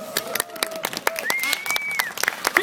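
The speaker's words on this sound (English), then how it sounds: "Why don't we give them a round of applause?" An aquarium audience claps after a dolphin show, with scattered, uneven hand claps and light crowd noise mixed with a few voices and whistle-like tones.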